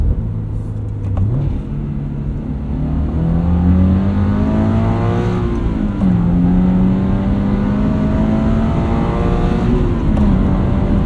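A 2022 Subaru BRZ with an MRT axle-back exhaust revs hard toward redline, several loud rising pulls and gear changes with a throaty, raspy exhaust tone close by and no talking.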